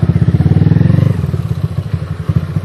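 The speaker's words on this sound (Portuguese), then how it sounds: "Você bota um escape desse na sua moto" A motorcycle fitted with a loud aftermarket exhaust idles close by, its engine thumping in a fast, even pulse that slows slightly and turns more uneven toward the end.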